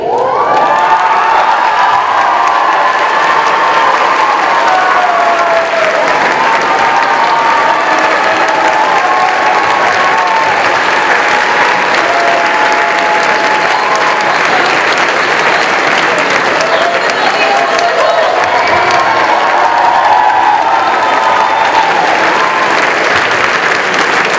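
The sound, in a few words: audience applause and cheering at a school fashion show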